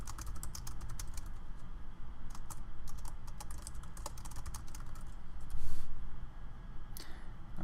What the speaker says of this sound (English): Geez, can't type.